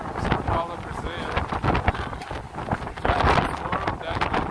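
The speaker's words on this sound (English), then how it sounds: "it's all of a sudden super windy here" Strong wind buffets the microphone while walking over the Brooklyn Bridge, a loud continuous rumbling roar with gusty surges and faint voices or traffic mixed underneath.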